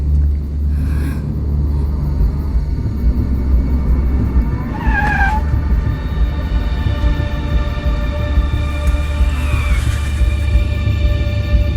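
A car skids with tires squealing in a near-accident movie scene, the screeches rising in brief bursts over a loud, steady engine rumble and background score.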